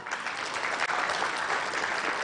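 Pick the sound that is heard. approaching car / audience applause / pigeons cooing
audience applause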